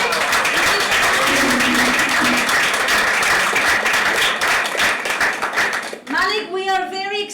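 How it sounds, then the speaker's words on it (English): An audience claps loudly and steadily at a book club gathering with a remote guest speaker, a dense, close round of applause that ends abruptly after about six seconds, followed by a voice speaking. "Big clap for Malik"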